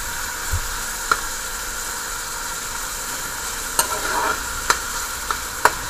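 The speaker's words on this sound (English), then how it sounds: "the oil is ready, and I put the beef in. Just want to fry up a little" Beef strips fry in hot oil with a steady close sizzle, broken by a few sharp clacks of a utensil against the pan, with no one speaking.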